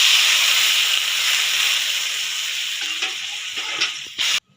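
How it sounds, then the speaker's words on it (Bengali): Two bowls of water go into a hot pan of Bengali sour fish curry with lemon. A loud, steady sizzling hiss starts at once, slowly fades, then flares briefly before cutting off. "এর মধ্যে দিয়ে দেবো 2 বাটি জল।"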